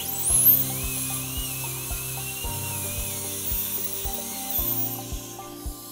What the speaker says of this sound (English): I'll use just a flame tip diamond, fine diamond burr, and then I can just get my initial groove outline form done